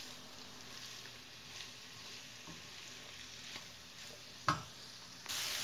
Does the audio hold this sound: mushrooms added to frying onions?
yes